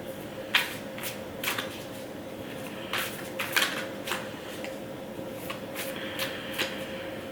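Tarot cards are shuffled by hand in repeated quick riffling bursts, close and fairly quiet, with short pauses between rounds over a faint steady background hum.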